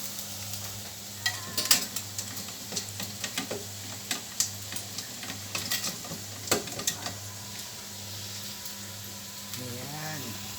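Onion, garlic and ginger sizzle quietly in a pan under a soft, steady frying hiss, while a spatula or ladle stirs them with a run of irregular scraping clicks and taps.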